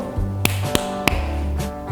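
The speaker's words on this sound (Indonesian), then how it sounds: "tepuk tiga kali" Three sharp hand claps ring out with uneven spacing over a low hum and faint background tones, each one crisp and close.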